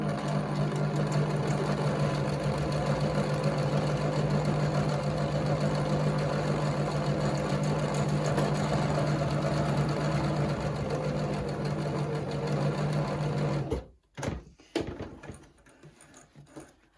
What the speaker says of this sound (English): then just put your pedal down